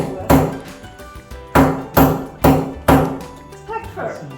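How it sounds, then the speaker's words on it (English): Hammering during a home DIY project: four loud, sharp blows spaced about half a second apart, close by, followed by a few lighter taps. "it's just hammer it in"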